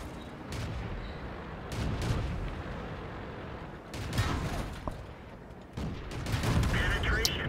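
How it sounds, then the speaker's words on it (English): Tank guns fire in World of Tanks battle gameplay, including a T-49 and a Chi Nu Kai: several heavy booming shots and crackling impacts rise out of a constant rumble of engine and battle noise. "the T-49 finished him with a turret shot"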